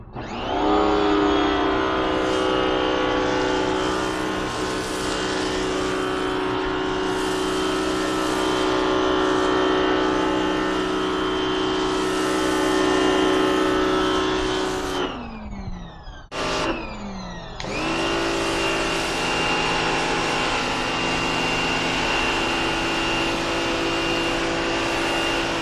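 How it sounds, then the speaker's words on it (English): A power washer fitted with a dip foam attachment snow-foams a car, its motor running as a loud, steady droning whine that cuts out briefly twice midway and then resumes at full strength. "We've got the dip foam system attached to our power washer."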